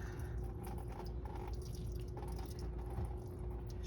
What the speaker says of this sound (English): I am successfully draining.